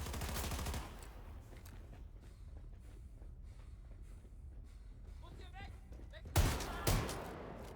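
A heavy turret gun fires in bursts in Wolfenstein II, with a loud rapid burst at the start and two more sharp blasts near the end, while someone talks quietly throughout between them.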